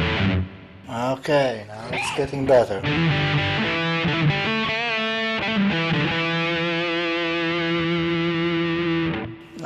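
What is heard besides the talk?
guitar with reverb on Zoom 3030 effects unit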